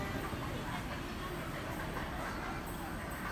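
A Waratah train passes platform 4 on a Richmond service, a faint steady rolling rumble and hiss of carriages going by at a distance.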